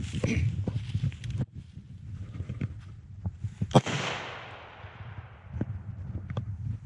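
A single sharp .45 ACP pistol shot cracks out at a range, with a fading tail, among lighter knocks and handling noises.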